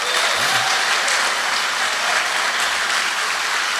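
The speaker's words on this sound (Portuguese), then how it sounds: "Você pode dar um aplauso ao Senhor Jesus?" A church congregation applauds during a Portuguese-language sermon, dense sustained clapping filling the room at an even level from start to finish.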